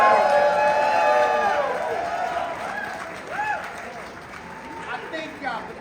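An audience at an advocacy day speech applauds with steady clapping mixed with cheers, the applause gradually thinning as a voice speaks over it.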